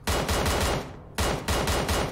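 Rapid automatic gunfire in PUBG Mobile, two dense bursts of loud repeated shots separated by a brief pause, then resuming for more bursts.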